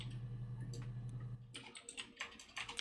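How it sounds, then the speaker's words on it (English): Quiet clicks on an in-game computer keyboard in Her Story, first under a low hum, then a brisk, irregular run of keystrokes, faint and close. "I think I can hear game keyboard when you type"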